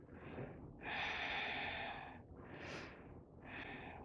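Deep, forceful nasal breaths during a yoga flying-splits exercise, three long inhales and exhales in a slow steady rhythm, close and loud with no talking.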